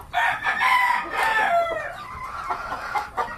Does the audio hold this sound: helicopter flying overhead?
no